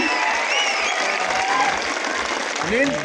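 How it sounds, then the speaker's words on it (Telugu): A crowd at a BJP political rally in Jagtial claps in welcome, a sustained dense applause with voices and whistle-like cries rising over it. "రామచంద్రరావు అన్న గారికి ఒక్కసారి గట్టిగా చప్పట్లతో స్వాగతం."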